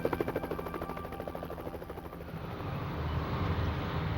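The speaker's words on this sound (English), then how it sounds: "They scanned the area inch by inch as choppers circled overhead." Helicopters circling overhead during a night search, a rhythmic rotor chop that fades into a steady droning engine rumble, moderately loud and continuous.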